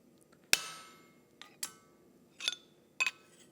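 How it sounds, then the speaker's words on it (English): The corner of a punch, used as a cold chisel, strikes a soft metal, giving four or five sharp metallic taps spaced irregularly, the first loudest with a short ringing decay, the rest quieter clinks in a quiet room. "use the corner of our punch as a cold chisel"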